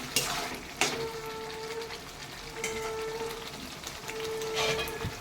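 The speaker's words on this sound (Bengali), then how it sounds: "এবার এই মশলাটাকে ভালো করে কষাতে হবে।" Mutton with spice paste frying in a pan, a soft continuous sizzle and crackle with a couple of sharper scrapes or taps, fairly faint and with no talk.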